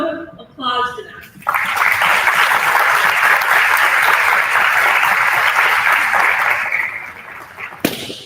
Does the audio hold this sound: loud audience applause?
yes